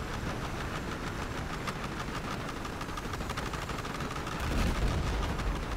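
Mounted guns on a helicopter firing in Battlefield Hardline, a steady rapid stream of shots blended with the constant roar of rotors and engine, a heavier thump near the end.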